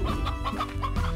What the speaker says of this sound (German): Ach, du frisst doch nur diese Hühner, oder?